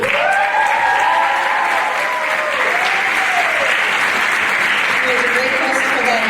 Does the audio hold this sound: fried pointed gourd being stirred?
no